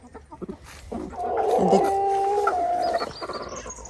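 Chickens raise a loud, drawn-out alarm squawk lasting a couple of seconds, with scattered clucks before and after, fairly close by.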